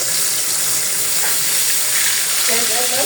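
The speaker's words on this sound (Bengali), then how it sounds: "পদ্মা মাছ ভাজি করতেছি" Padma fish frying in a pan, a loud, steady, close hiss of sizzling oil that continues throughout without talk, ending with a faint tonal sound.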